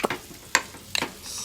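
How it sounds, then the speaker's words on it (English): A spoon stirs fresh chives into a thick sour cream dip, giving a few soft, close scrapes and wet clicks at irregular intervals, with a faint hiss underneath and no talking. "Stir in those fresh chives."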